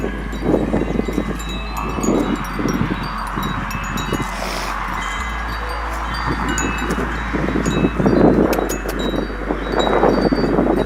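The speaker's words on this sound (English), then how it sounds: "excuse the wind, it's very windy out today." Wind blows outdoors in a garden on a chilly, very windy day, buffeting the microphone with continuous low rumble and gusty swells, plus faint rustling and scattered ticks throughout; no talking.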